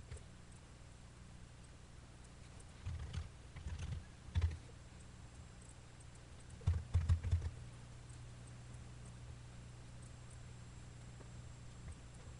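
Keys on a computer keyboard tapped in a few short bursts of quick clicks at moderate distance, separated by quiet gaps, with no talking.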